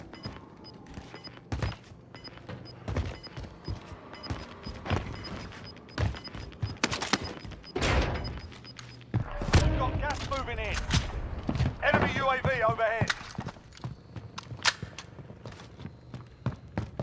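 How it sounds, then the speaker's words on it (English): Gunfire in the video game Call of Duty: Warzone cracks out in sharp, scattered shots and short bursts around a prison area, mixed with footsteps and thuds, someone talking at times. "lots of shooting and shots in prison, huh?"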